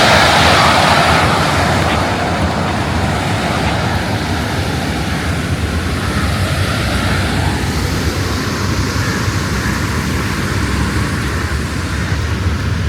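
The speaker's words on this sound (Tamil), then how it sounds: "இந்த போர்ட்டை ஒட்டின மாதிரியே பீச்." Ocean surf rolling onto a beach beside a port at Khor Fakkan, a constant loud wash of breaking waves mixed with wind buffeting the microphone throughout.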